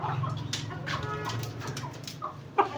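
Miniature chickens clucking in a farmyard, soft intermittent clucks and short calls at a moderate distance, with a sharper peep near the end.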